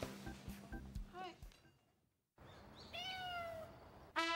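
A cat meows in a quiet indoor morning scene, two rising, tonal meows near the end following some earlier clinks and movement, close and clear.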